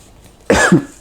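A single close, loud cough, set off by seasoning and pepper while cooking pork chops, breaks out in two quick bursts, then fades to quiet.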